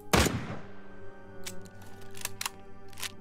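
A single loud, close shotgun blast in a survival video game, booming with a short decaying tail, followed by a low hum and several fainter sharp knocks and clicks spread over the next few seconds.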